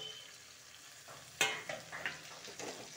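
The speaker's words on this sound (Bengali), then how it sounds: "মিষ্টি কুমড়াটা ঢেলে দিব এখন।" Pumpkin is poured into a frying pan of cooked ginger for a vegetable curry, starting with a sharp clatter and splash, followed by rising sizzling and scattered stirring scrapes against a constant low fry.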